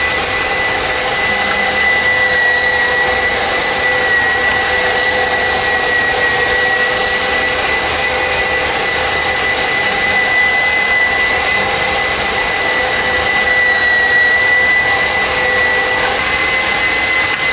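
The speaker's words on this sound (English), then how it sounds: "And now at the end of our grinding process, make sure all the meat is nicely coursed through." An electric meat grinder churns meat for a terrine with a loud, steady motor drone and thin tonal whine that runs on unbroken, with no talking.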